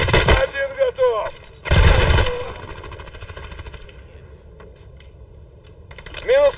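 Rapid gunfire from a 100-round weapon in the online shooter Hired Ops, loud bursts at the start and again around two seconds, with a quieter stretch between, while a player talks over it.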